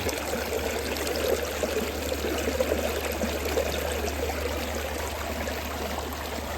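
Creek water runs steadily through a gold sluice box, a continuous near rushing and trickling wash with no pauses and no voices.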